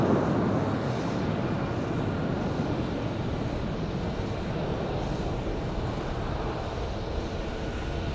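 A Southwest Airlines jet in the Herb Kelleher Desert Gold livery at Phoenix Sky Harbor Airport, heard as a steady, loud broadband engine roar that holds evenly throughout with no voices.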